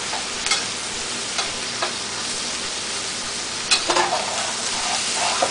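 Soft continuous sizzling of food frying in a pan, with a few brief clinks and scrapes of stirring scattered through.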